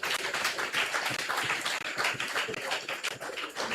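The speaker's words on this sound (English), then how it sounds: "Please give them a round of applause." Steady audience applause, a dense wash of clapping from a crowd that holds for several seconds without talk.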